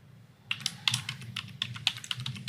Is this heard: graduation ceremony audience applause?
no